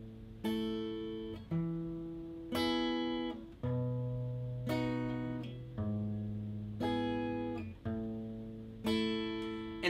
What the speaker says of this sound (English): we're going to be doing two strums or two plucks per chord